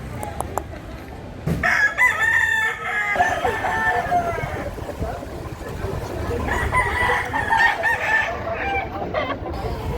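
Roosters crow and cluck at a Consolacion, Cebu gamefowl sale, with repeated crows rising over busy background chatter and people talking.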